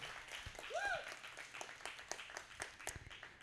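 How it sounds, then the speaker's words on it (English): Applause from a community panel audience greeting a PFLAG Austin board president, fairly faint and scattered claps under a brief voice and other room noise. "Everybody give a round of applause for Anna."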